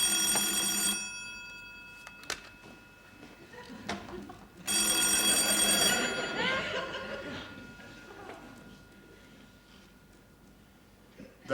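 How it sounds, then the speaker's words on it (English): An old-fashioned telephone bell rings in a department store boardroom, two loud bursts separated by a pause, with chuckles and voices in the room around it. "That's the phone."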